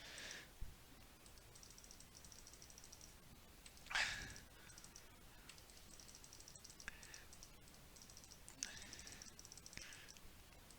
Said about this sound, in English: A lot more frantic clicking than actual strategies, you can see.